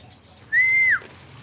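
A single clear bird call from a pigeon loft, a steady whistle-like tone lasting about half a second, sitting above a quiet low background hum.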